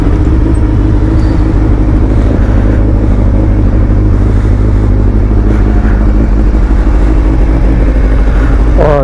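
A Suzuki Hayabusa motorcycle engine cold-starts and idles in a busy market, a loud, steady low rumble running throughout with no talk over it.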